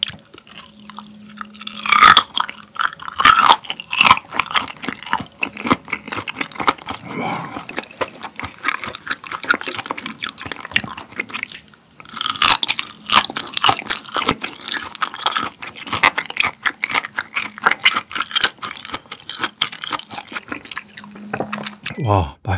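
Whole raw gizzard shad, eaten bones and all, is chewed close to the microphone, with loud repeated wet crunches and crackling bites that go on steadily with brief pauses.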